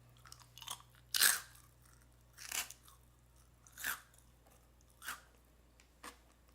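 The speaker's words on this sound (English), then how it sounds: "That is very crispy." Crispy Okinawa-themed snack bitten and chewed up close, five or six distinct sharp crunches spaced about a second apart, each loud and bright, over a quiet background hum with no talking.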